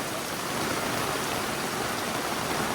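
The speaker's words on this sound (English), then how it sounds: "it got a little heavier in terms of rain" Heavy rain pounding down around a petrol station canopy, a dense, loud and unbroken hiss of falling water with no voices.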